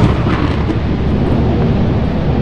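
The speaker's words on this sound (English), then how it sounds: "lightning keeps striking that area" Lightning strikes in the video game Lethal Company, followed by loud, close thunder that rolls in one continuous, heavy rumble without pause.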